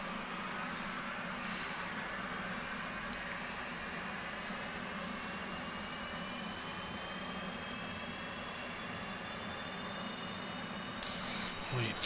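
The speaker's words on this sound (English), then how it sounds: "crank the right engine" A steady, loud jet turbine roar from an F/A-18C Hornet engine spooling up in the DCS World flight simulator, with a faint tone rising slowly in pitch throughout and no speech over it.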